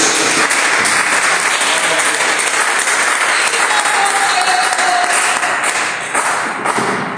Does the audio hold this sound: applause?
yes